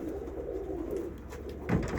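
A flock of pigeons keeps up a low, continuous cooing inside an aviary, with a slightly louder burst near the end and no voices.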